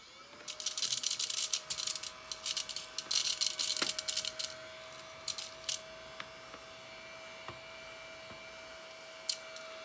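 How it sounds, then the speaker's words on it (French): A vacuum cleaner runs nearby with a steady motor whine throughout, mixed with bursts of sucking and rattling noise as it moves over a surface at a painting workspace. "je vais passer l'aspirateur, il en reste un petit peu"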